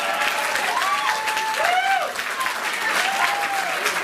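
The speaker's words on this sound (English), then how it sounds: "Round of applause, guys" Wedding guests applaud the bride and groom, Nicola and James, with dense, steady clapping while whistle-like tones, likely birdsong or whistling, glide through above the applause.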